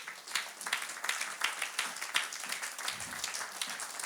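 A church congregation at an online worship service applauds loudly together, a dense, continuous patter of many hands clapping in a lively rhythm, with no talking over it.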